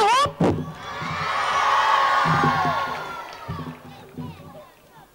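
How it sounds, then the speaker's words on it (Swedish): Children's audience at a Swedish youth talent show cheering, whooping and shouting, a swelling crowd roar that peaks mid-clip and then fades into scattered shouts and chatter. "Folkens jubel, alla bara hopp!"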